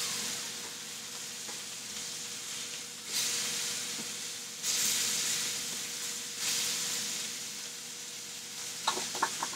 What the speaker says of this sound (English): we're going to pull the steak out. Beautiful, still sizzling.